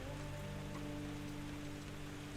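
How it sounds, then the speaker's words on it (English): Rain falls in Microsoft Flight Simulator 2020, a soft steady patter on surfaces with a low hum beneath, continuous and fairly quiet throughout. "I'm getting tired of getting rained on here"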